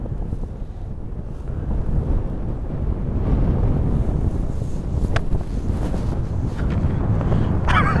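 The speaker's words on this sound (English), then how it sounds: "This wind, by the way, has just gone crazy." Strong wind roars across an exposed seaside links golf course at Machrihanish Golf Club, a loud, continuous buffeting rumble battering the microphone with gusty surges and occasional faint knocks.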